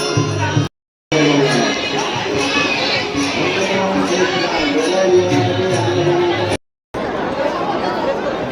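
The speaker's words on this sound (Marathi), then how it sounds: "चंपाषष्ठीमुळं पूर्णतः गडावर गर्दी आहे" A large festival crowd throngs Jejuri Khandoba temple for Champashashthi, a continuous busy babble of many voices with children shouting and occasional cheers, briefly cutting out twice.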